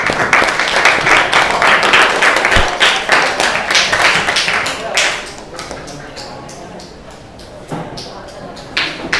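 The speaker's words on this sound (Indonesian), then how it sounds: "Yuk, beri tepuk tangan dulu." Classroom students clap for a presenting group, loud and fairly close, with individual hand claps standing out before the applause thins into scattered claps amid some talk and shuffling.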